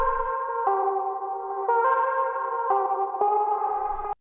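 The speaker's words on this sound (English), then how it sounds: "And now let's go to the organ, so that's the vocalish sound." Organ preset from the Baby Audio BA-1 synthesizer plugin, a sustained chordal tone with a vocal, retro character that changes chord several times, steady and loud, then cuts off abruptly.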